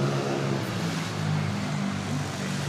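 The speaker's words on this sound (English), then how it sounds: "See how quiet those engines are?" Airbus A350 XWB jet airliner engines at Manila Airport, a steady, fairly quiet broadband roar with a low hum, continuous and even throughout without talk.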